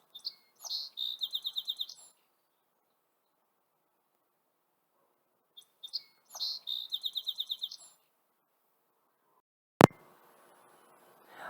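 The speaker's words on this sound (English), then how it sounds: "Sparrows sound like this." A sparrow sings two clear songs, each a few thin notes leading into a rapid high trill, separated by silence, then a sharp knock.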